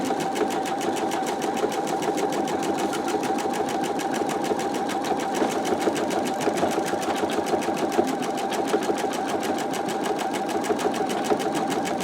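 An embroidery sewing machine stitches out machine quilting on a calico cats quilt held in a magnetic embroidery hoop, humming steadily and rapidly throughout, close and loud with no speech.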